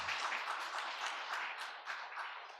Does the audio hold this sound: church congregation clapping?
yes